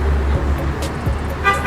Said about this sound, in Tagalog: Isaac! May sasakyan.